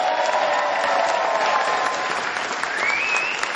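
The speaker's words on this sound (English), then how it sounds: "Give them all a very big hand that are here." Audience at a Bill Clinton campaign rally in Houston applauds steadily and loudly, a dense continuous clapping with crowd noise throughout.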